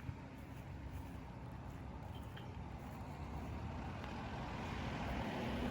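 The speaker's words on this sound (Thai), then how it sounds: "พี่น้องเสียงเรือนักท่องเที่ยวค่ะ" A steady, low tourist boat engine rumble drones on without pause at a distance off Thap Khaek beach, Thailand, with a broad wash of noise.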